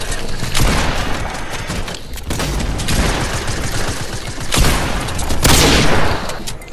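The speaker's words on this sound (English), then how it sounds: "I think they shot at it and it exploded." Gunfire and an explosion in the Fortnite video game, with dense bursts of shots and booms that run loud and continuous across the whole stretch, including heavier blasts near the end.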